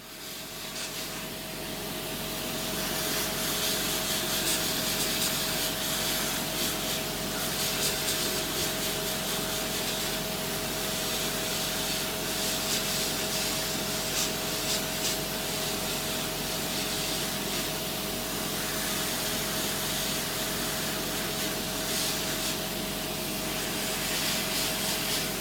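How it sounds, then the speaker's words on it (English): A powered nail drill grinds debris out from under toenails with suspected fungal infection, giving a steady, unbroken whirring and rasping hum at close range for the whole stretch, with no talk. "So we're just going to clean that out. I'm going to use a drill for that."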